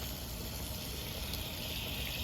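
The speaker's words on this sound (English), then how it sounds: "Now I'm gonna start turning on the water." Water turned on and rushing steadily through plumbing fittings past a pressure gauge setup, a continuous loud hiss with no talking.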